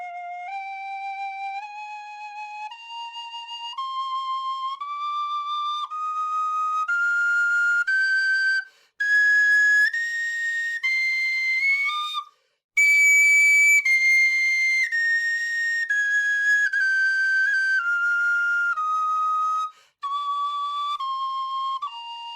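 High D tin whistle playing a plain scale up and then back down, one clear, bright, piercing note after another, close and alone, with a couple of brief breaths between phrases.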